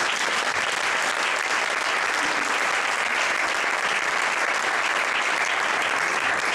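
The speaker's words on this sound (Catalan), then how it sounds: "Un fort aplaudiment pel president." Audience applause for the president at an award ceremony: dense, continuous clapping from a large crowd, loud and unbroken throughout, with no voices on top.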